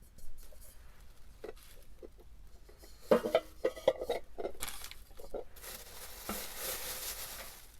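Metal basket clinking and rattling, a few sharp taps followed by a longer scraping, jangling shake, fairly close and moderately loud.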